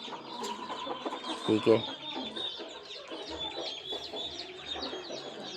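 Caged poultry clucking close by during vaccination, busy overlapping clucks and chirps with a couple of louder squawks, under brief soft talk.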